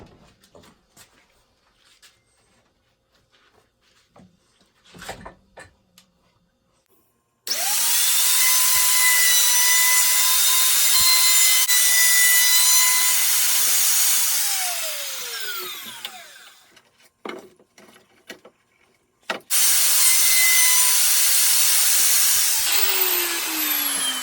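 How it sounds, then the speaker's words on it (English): A plunge router cuts holes through a wooden vintage snowboard plate in two long, loud, steady bursts of high whine. The motor spins up, holds for several seconds, then winds down, with quieter workshop handling noises in between. "finish this off though with the with a plunge router to make the holes nice and even"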